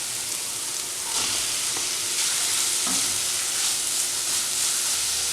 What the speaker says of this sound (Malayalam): ഇതിനകത്തേക്ക് നമുക്ക് എടുത്തു വച്ചിരിക്കുന്ന സവോള ഇട്ട് കൊടുത്ത് നന്നായിട്ട് വഴറ്റാം.